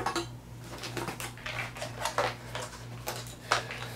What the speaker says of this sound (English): That's two pots, three pots. You saw the silverware.